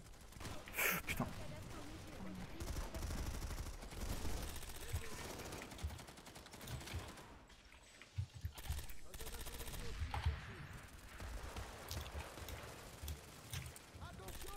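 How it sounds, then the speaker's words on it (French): Automatic turret firing in Planetside 2, rapid gunfire bursts amid a chaotic base fight with explosions, mixed with someone talking over the noise. "Ils ont une tourelle automatique."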